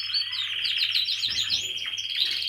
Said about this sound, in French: j'ai fait apprécier le chant des oiseaux